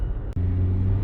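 A 2014 Toyota Prius C accelerates in Eco mode with a steady low engine drone and road rumble from inside the cabin, briefly dipping before the hum returns louder.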